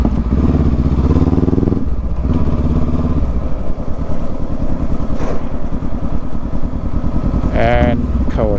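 Kawasaki Versys 650 motorcycle riding, its engine droning steadily and loudly throughout with shifting pitch, while a person talks over the ride.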